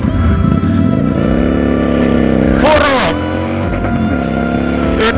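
A Victory Hammer S motorcycle with 140 Nm of torque and a 250 rear tyre pulls hard, its engine note rising and falling through gear changes, while someone talks over it throughout.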